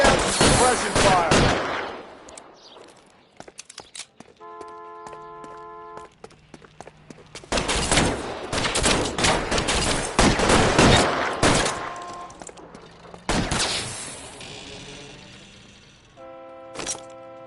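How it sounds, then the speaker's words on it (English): Suppression fire in a PlayStation 4 video game: loud, dense bursts of rapid gunfire in several long volleys, broken by quieter stretches of electronic beeping tones. "I'll lay down some suppression fire"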